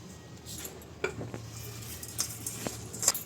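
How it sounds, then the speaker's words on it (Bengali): Shapla stems and shrimp mixed with mustard oil by hand in a bowl, giving soft squelching and stirring with a few light clinks against the dish, close and fairly quiet, with no talk. "এবার সর্ষের তেলটা দিয়ে ভালো করে মাখছি, দেখুন এইভাবে ভালো করে মেখে নিতে হবে।"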